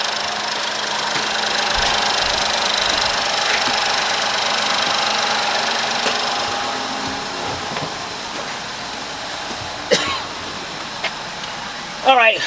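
A Ford engine idles steadily after timing belt, oil pump belt and oil pump replacement, a continuous mechanical hum and whir with faint ticking, joined by brief clanks near the end and occasional voices.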